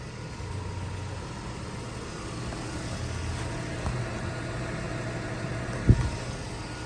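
Subaru STI car engine idling steadily after starting, a low, even rumble that holds at a moderate level throughout, with one brief knock near the end.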